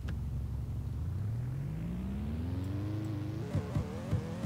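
A slow car in the Roblox Drifting Simulator video game drives with a steady engine drone that rises smoothly in pitch as it accelerates, with a few knocks near the end, moderately loud and without speech.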